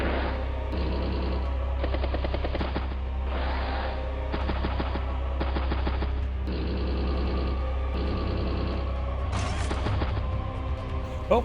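Rapid game gunfire from a battlecopter trading fire with an anti-air unit in Advance Wars: Days of Ruin, with dense bursts of shots repeating in blocks over a steady musical backdrop.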